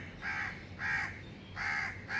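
A crow caws three times, harsh nasal calls spaced roughly half a second to a second apart, fairly close and clear over a faint background.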